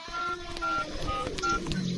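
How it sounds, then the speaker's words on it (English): Mobile phone keypad dialing an emergency number, a quick series of short beeping tones close up, each press distinct and evenly spaced. "I must call for help. A mobile phone. Emergency number 333."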